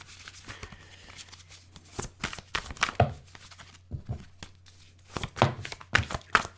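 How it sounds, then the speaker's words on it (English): Tarot cards are shuffled by hand in close, crisp bursts of riffling and slapping, irregular clusters of papery clicks and thumps separated by brief pauses over a quiet low hum. "One more shuffle."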